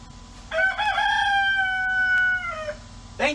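A rooster crows once nearby, a long, clear cock-a-doodle-doo lasting about two seconds in a quiet chicken coop, followed by a short squawk at the end.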